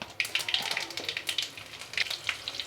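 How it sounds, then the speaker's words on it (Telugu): Mustard seeds, cumin and garlic crackle and sizzle in hot oil during tempering, with faint, irregular pops and spatters over a quiet hiss. "ఇప్పుడు తిరగమాత పెట్టుకోవాలి. ముందుగా ఆవాలు, కొంచెం జీలకర్ర, తెల్లగడ్డ"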